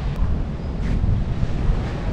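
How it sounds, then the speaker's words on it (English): Ocean surf rumbles from beyond a ridge at a Cayo Largo resort in Cuba, a low continuous wash of waves mixed with wind buffeting the microphone. "we can hear the ocean because the ocean's right over top of that ridge"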